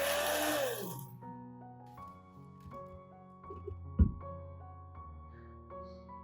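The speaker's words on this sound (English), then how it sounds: "After grinding all the peel into a powder" An electric grinder pulverises dried lemon peel into powder, a steady motor whine that winds down and stops, then a few faint clicks and taps, with one louder knock in the quiet that follows.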